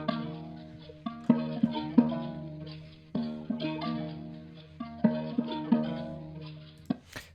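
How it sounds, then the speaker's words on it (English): A repetitive Middle Eastern-style melodic loop for a Pyrex-type trap beat, with plucked, sustained tones and recurring accents that restart the phrase about every two seconds, playing alone at moderate volume. "So it's a very repetitive Middle Eastern type of loop."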